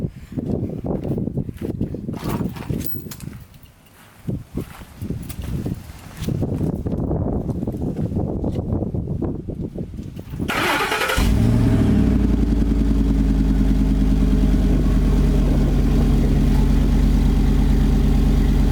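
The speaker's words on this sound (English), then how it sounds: "Let's fire the truck up right now and see how everything sounds." A 2006 Ford F150 pickup with a flexible side exhaust starts up after a stretch of handling noise, settling into a loud, steady, rumbling idle that runs close and unbroken to the end.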